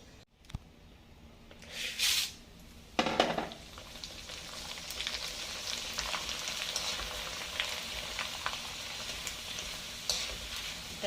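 Poha frying in oil for corn chivda, a steady crackling sizzle that swells after a few sharp clanks and scrapes early on, then continues evenly at moderate loudness.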